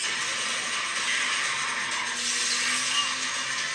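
Steady loud engine roar with a high whining hiss, continuous throughout, from a car drifting through a long turn in the racing game Asphalt 9 on an iPhone XR, with no talking.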